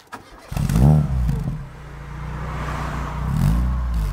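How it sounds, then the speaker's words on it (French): A modified Citroën Saxo VTS, a small French hatchback, starts up: a brief crank, then the engine catches with a loud rev and settles into a rumbling idle, swelling again near the end, heard close from behind the car. "je te laisse démarrer la voiture"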